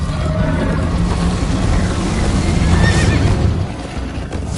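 A horse whinnies over the rumble of galloping hooves in a Minecraft Story Mode chase scene, a continuous loud pounding with a rising neigh near the middle.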